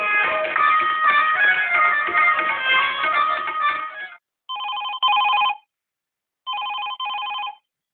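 A telephone rings for a radio call-in show: a long continuous electronic trill, then two shorter separate bursts of ringing with silence between, loud and clear.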